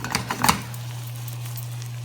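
Butternut squash gnocchi swirled in butter sauce in a pan: a short run of clinking, scraping stirs at the start, then a quiet, steady background hum.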